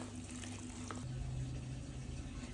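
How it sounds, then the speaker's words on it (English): Water runs from a tap into a pot being filled to boil carp fishing particles, a quiet steady trickling with a shift in tone partway through. "I've started to fill the pot up to get boiling"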